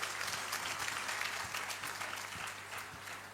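An audience at a talk show in Agra breaks into sustained applause to welcome a guest, a continuous dense clapping that stays fairly even and slowly tapers toward the end.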